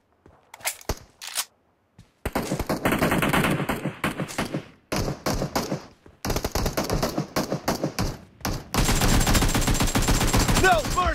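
Dense automatic gunfire from the video game PUBG, long sustained bursts broken by short pauses and single shots, loud and close, with sound effects layered over the firing.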